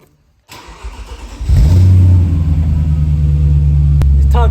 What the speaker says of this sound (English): It's time to drive this Audi S4 and I'm so excited, boys. Let's listen to that V8.